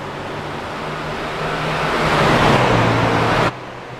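Stock race cars lap the flat oval at Phoenix with a loud, steady engine roar that builds as a car draws near and then cuts off sharply near the end.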